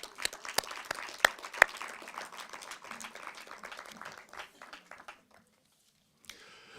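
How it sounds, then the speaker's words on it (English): Audience applause at a film season closing ceremony and awards, starting with a few sharp near claps, then thinning out and dying away to near silence before a brief noise at the end. "Please give yourselves a round of applause"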